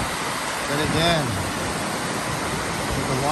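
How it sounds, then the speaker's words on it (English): A waterfall in downtown Greenville pours in a steady, loud broadband rush close by, with people talking over it. "there's a waterfall."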